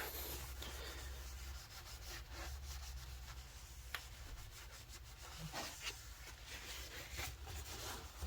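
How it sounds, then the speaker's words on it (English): A shop towel dampened with brake cleaner wipes out the bore of a blow-off valve, giving a close, quiet, continuous rubbing and scrubbing with slight irregular strokes and a few small knocks. "I've just got a shop towel here with a little bit of brake cleaner on it. Just wiping out the bore."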